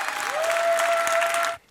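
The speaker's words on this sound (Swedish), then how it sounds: "Så jag vill att ni ska ge er en varm applåd" A crowd at an awards show claps loudly and steadily, with a sustained electronic tone running through it, before the applause cuts off sharply near the end.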